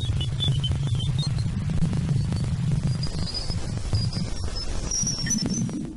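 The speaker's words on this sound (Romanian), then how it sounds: "Una dintre lunile lui Jupiter este Ganymede și este cea mai mare lună din sistemul nostru solar, dar sunetul pe care îl scoate este cu adevărat terifiant." A space sound recording said to come from Jupiter's moon Ganymede: a steady, dense low throbbing hum with a constant static-like wash above it and faint warbling tones, running continuously without a pause.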